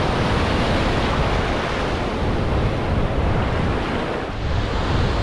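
Ocean surf washing in steadily at Playa El Cuco beach in El Salvador, a continuous loud broadband roar of breaking waves with wind buffeting the microphone throughout.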